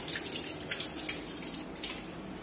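Tap water runs steadily into a kitchen sink during handwashing, a continuous close splashing wash with no talk over it.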